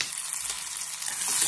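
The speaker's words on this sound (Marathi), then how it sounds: "गॅस बारीक करून भाजून घेते" Tomato and turmeric masala sizzles steadily in a pan over low gas, a close, even hiss of frying with no speech.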